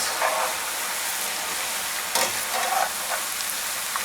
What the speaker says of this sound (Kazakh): Ендігі жерде майда картоптың қуырып алыңыз.